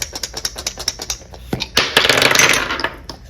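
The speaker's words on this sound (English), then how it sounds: "let's roll the Aster dice" Astrology dice rolled for a love tarot reading: a run of quick, hard clicks and taps, then a louder clattering rattle as they tumble and settle, close and loud.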